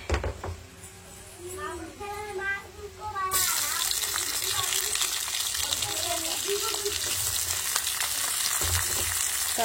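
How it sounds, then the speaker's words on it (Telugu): Onions and tempering spices frying in oil in a village kitchen, a steady close sizzle that grows louder and continuous, with a voice and talk over the first part. "పోపు దినుసులతో పాటు ఆనియన్స్ కూడా వేసుకొని ఫ్రై చేసేసుకున్నామండి."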